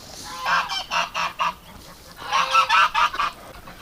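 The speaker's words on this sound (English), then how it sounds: "But the ducks are sure enjoying this, being outside all the time." Ducks kept outdoors in a winter pen give two loud bursts of rapid, repeated honking quacks, close by and with no talking.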